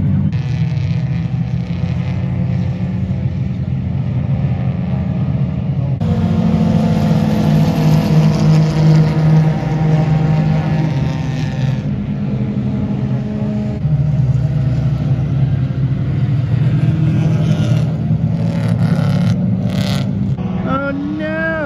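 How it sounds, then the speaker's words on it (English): Cheap race cars at a 24 Hours of Lemons endurance event drive past on track, engines droning and shifting in pitch as they pass, loud and continuous, with a voice talking over parts of it. "Some of the cars are driving quickly."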